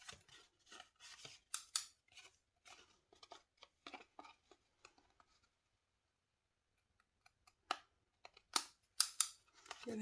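Crisp scissor snips trim excess paper from a small watercolor bird card, some quick and clustered, others spaced out, with a quiet pause in the middle.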